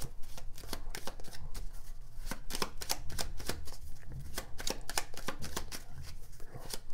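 A deck of cards being shuffled for a fortune-telling reading, a continuous run of close, crisp riffling flutters and taps that carries on without a break and without talking.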